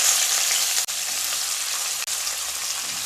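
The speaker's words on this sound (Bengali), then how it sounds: "পেঁয়াজগুলোকে হালকা ভেজে নেব।" Sliced onions fry in hot oil with green chili, giving a steady, close sizzle that runs without letup and is broken only by two very short dropouts.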